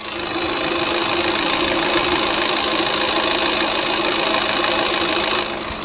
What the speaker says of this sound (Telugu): ఇంజన్ నాయిస్ కూడా ఒకసారి అయితే మీరు నోటీస్ చేయవచ్చు.